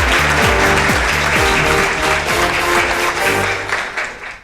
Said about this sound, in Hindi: आपकी भरपूर तालियों में तशरीफ लाएंगी सबा फैसल